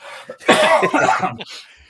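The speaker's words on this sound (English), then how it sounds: "your wife is making me cough" A single hearty cough up close, a drawn-out rough burst with softer breathy sounds before and after it.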